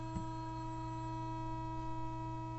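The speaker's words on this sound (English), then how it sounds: "you can hear we have a nice clear sine wave coming out of it" A quiet steady tone plays through the amplifier of a Zenith AP6 portable record player under repair, a constant hum-like pitch with faint harmonics that holds unchanged throughout.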